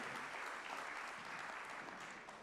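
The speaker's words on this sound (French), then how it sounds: "Voilà, les applaudissements pour" Steady audience applause fills the room at a regional cycling-plan conference, a dense, even wash of clapping held at moderate level throughout.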